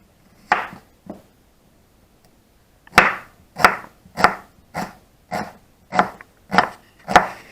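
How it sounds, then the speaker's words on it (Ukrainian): A knife thinly slices onion on a cutting board for a layered tomato salad: two crisp cuts, a pause, then a steady run of eight evenly spaced chops, close and clear with no talk. "Цибульку нарізаємо тоненько, щоб вона промаринувалася"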